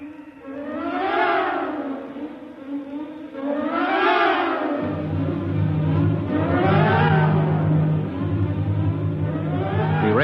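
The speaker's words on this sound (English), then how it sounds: "Shoved by a wind that had now reached 175 miles an hour" Gale-force wind howls as a radio drama sound effect, rising and falling in three long swelling waves like a siren, with a deeper steady rumble joining underneath halfway through.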